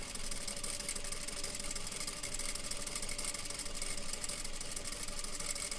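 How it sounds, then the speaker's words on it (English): A sewing machine stitching a plain seam along a 3/4 inch line, a steady fast mechanical whir and rattle running evenly throughout at moderate volume. "and then sew along that 3/4 inch line."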